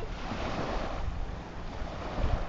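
Water washes and laps steadily along a quiet lagoon beach at Lagoa da Praia Seca in Araruama, a continuous close wash with wind buffeting the microphone and no talking.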